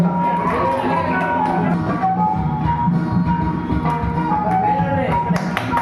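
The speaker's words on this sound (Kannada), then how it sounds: "ಚಪ್ಪಾಳೆ" Audience clapping at a school teachers' honouring ceremony, a dense, steady patter of many hands, with murmuring voices and a few shouts mixed in throughout.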